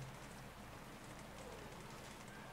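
Steady rain falls through a night scene in the video game Distraint, a continuous soft hiss of drops on surfaces, quiet and unbroken with no voices.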